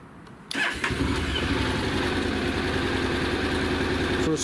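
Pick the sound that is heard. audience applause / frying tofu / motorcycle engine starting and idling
motorcycle engine starting and idling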